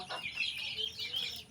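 Chickens cluck faintly beside a cage of chicks at a rain-flooded rural home, a few soft, scattered calls at a distance.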